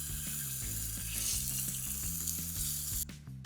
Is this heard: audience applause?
no